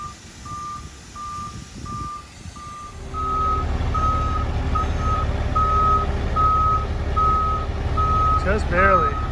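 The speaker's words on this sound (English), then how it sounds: "it's kind of a big truck to be maneuvering" A big truck reverses while its backup alarm beeps in a steady, evenly spaced series, with the low diesel engine rumbling louder partway through. A voice speaks briefly near the end.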